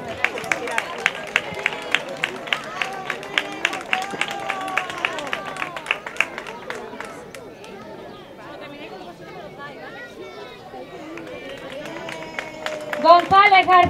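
Scattered hand claps from an end-of-year school ceremony audience, a loose patter mixed with chatter and murmuring voices, thinning midway before a brief louder burst at the end.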